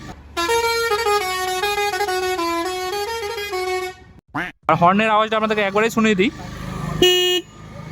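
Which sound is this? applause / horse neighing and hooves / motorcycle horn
motorcycle horn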